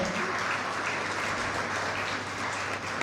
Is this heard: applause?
yes